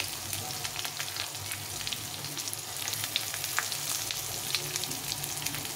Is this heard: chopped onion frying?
yes